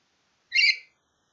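A pet bird gives a single short, bright call that rises and fades within about half a second, close by against an otherwise silent room.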